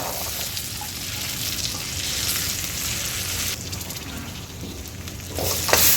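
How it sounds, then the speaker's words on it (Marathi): Green peas with a pinch of garam masala sauté in a little oil, giving a steady, close sizzle with fine crackle throughout and a few brief scrapes near the end, no talking. "याला दोन मिनटं परतून घ्यायचं आहे"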